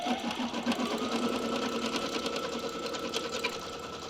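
A sewing machine tacks a back fabric piece onto the front of a bunny cinch sack, a close, steady rapid needle chatter running continuously at moderate volume.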